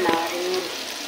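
A masala of onion, ginger and garlic sizzles and fries in a pan, a close, steady crackling hiss with a brief stirring scrape.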